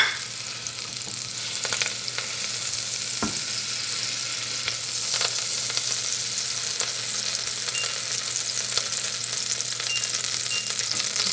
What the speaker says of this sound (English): And I start with melting the 25 grams of butter.